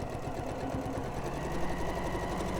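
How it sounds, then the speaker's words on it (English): Sewing machine stitching along a marked line on quilt fabric squares, a fast, steady mechanical whir and clatter running continuously at close range. "sew along the line."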